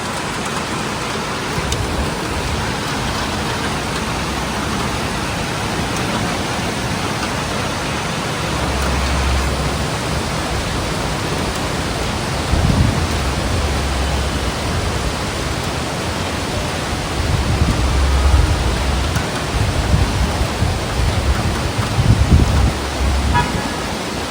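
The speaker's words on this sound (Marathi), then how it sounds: "पाऊस बघा आज कसला आलाय" A continuous wash of heavy monsoon rain, with traffic passing and car horns tooting now and then in the background.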